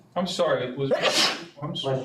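A person sneezes once, sharply, during a school board meeting, and then apologizes.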